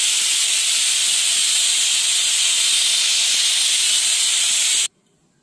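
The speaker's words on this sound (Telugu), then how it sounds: "పప్పు కూడా ఆల్మోస్ట్ విజిల్స్ అయితే వచ్చేసాయండి" A pressure cooker cooking dal hisses out a long, loud, steady whistle of steam that cuts off abruptly near the end, leaving quiet kitchen background.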